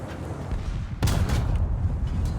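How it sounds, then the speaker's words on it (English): A T-62 tank cannon fires in War Thunder: a sudden heavy blast cuts through a constant low engine rumble, followed by another quicker crack, both loud and close. "As I take 2 shots without rangefinding."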